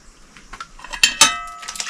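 A pot is fetched and handled among dishes in a countryside home kitchen, with a few sharp metallic clanks and clinks close by, two louder knocks in the middle, over a quiet background.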